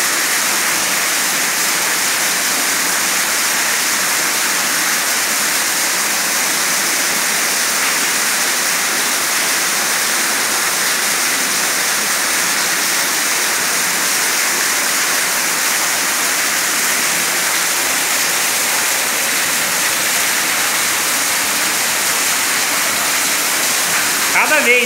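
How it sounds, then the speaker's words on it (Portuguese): Steady, loud roar of a waterfall inside a cave in Ilicínea, Minas Gerais, a dense unbroken wash of falling water filling the space for the whole stretch. "o barulho da água"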